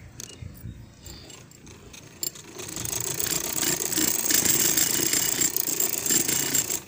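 A sewing machine stitches a fabric seam, starting with a few scattered clicks and knocks, then settling into a steady, fast mechanical whir and rattle for the rest, close and with no talking.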